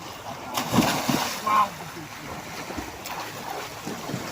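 Someone plunges into clear river water with a splash at a swimming spot in Botolan, Zambales, followed by lapping water and outdoor wind while people chatter and shout nearby.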